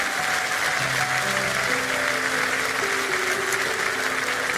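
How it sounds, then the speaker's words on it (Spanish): Continuous applause from a church congregation after a prayer, a broad, sustained wash of clapping with musical tones rising underneath. "Un aplauso a todos ellos que hicieron esta oración"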